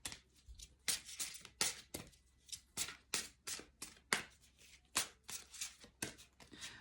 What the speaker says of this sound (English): Want to pull another Dr. Emoto card at this point.